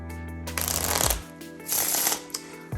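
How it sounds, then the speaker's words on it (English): A deck of playing cards is riffle shuffled in the hands, producing two crisp, close fluttering bursts of cards interleaving, each ending in a soft tap as the deck squares up. "then an in the hands riffle shuffle"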